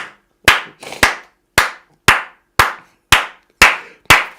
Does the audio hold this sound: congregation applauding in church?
yes